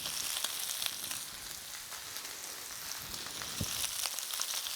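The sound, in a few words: lettuce frying in a pan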